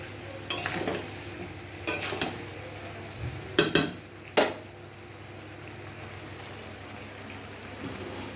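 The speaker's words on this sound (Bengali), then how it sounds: "আবার একটু নাড়াচাড়া করে দেব" A spoon stirs bottle gourd and egg curry in a pot, giving a few scattered scrapes and clinks against the metal over a soft steady simmer, close and fairly quiet, with no voices.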